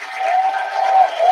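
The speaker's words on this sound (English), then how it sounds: "Give that a round of applause." A short burst of applause, a dense patter of clapping that rises slightly toward the end, somewhat thin and muffled.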